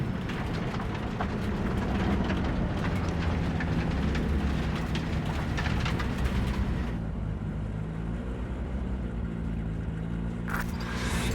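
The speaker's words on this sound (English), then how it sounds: "maybe we should just hijack the train" A train arrives in the Cyberpunk video game, heard as a continuous loud mechanical rumble and rolling roar that fills the scene, easing slightly near the end, with a brief sharp sound at the close.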